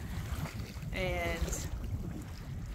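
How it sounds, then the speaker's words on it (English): Steady wind rushes and buffets the microphone over choppy lake water as a storm approaches, with a brief voice cutting in partway through. "Very choppy, pretty windy today with the storm coming in."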